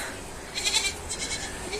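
Goats on a household farm bleat, giving two or three short, wavering calls that sound somewhat distant against a quiet outdoor background.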